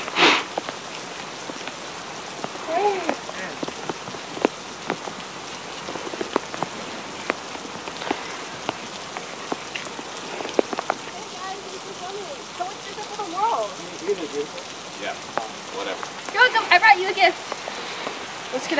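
Steady rain pours down outdoors in a constant dense patter, with faint voices now and then beneath it.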